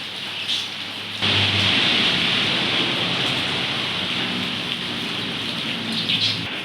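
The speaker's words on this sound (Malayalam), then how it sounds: "മഴ പെയ്തുകൊണ്ടിരിക്കുകയാണ് നല്ല മഴയാണ് കേട്ടോ നന്നായിട്ട് മഴയുണ്ട് കേട്ടോ" Heavy rain pouring down over a house yard: a dense, loud, continuous hiss that swells suddenly early on and holds steady, with no talk.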